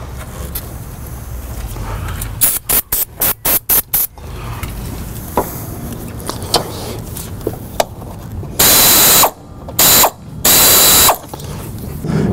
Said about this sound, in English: You always want to use a backup wrench when you're removing any of the lines.